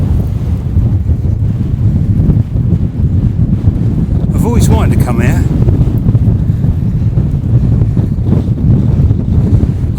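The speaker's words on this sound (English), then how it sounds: "it is quite a windy day anyway today" Strong gusty wind buffets the microphone on top of Cley Hill near Warminster, a loud continuous roar with a sharper gust midway, while a person speaks briefly over it.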